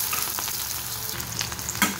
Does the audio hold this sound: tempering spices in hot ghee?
yes